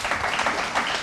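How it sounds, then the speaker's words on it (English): Audience applause at a science quiz show, steady close clapping filling a brief moment. "let's have a big round of applause for them then"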